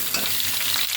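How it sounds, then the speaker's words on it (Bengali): Potatoes sizzle steadily in hot oil in a pan, a brief, close and even frying hiss with no voices. "আলুগুলো ভাজা হতে হতে আমি এদিকে মশলাটা একটু রেডি করে নেব।"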